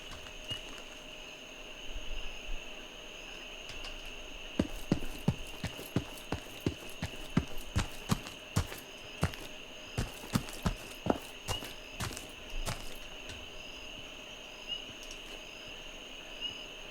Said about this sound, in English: Hear some footsteps over there.